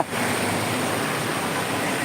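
Floodwater runs as a strong current along a submerged Dhaka street after light rain, a steady broad rushing wash that is close and continuous for the whole stretch with no voices.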